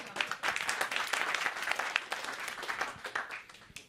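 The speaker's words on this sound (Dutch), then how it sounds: "Applaus voor Bram." A crowd at a talk on blockchain and Bitcoin claps for an audience member, a lively burst of applause with distinct individual claps that swells and then thins out over a few seconds.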